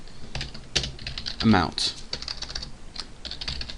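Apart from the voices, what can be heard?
typing on a computer keyboard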